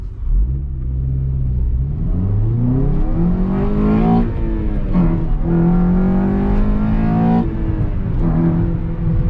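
A car engine revs hard through the gears on an open stretch, loud and close, its pitch climbing and dropping with each shift in a steady, continuous roar.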